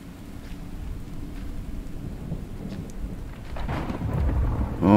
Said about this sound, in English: It's a nasty old storm